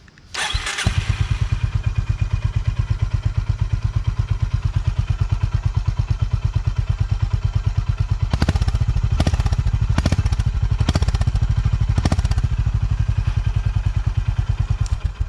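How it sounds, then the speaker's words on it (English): A Honda CB 350 Highness motorcycle engine starts with a burst, then idles with a rapid, throaty exhaust pulse, punctuated by several louder revving blips near the end. "we spoke about the exhaust sound, which is a lovely roaring exhaust"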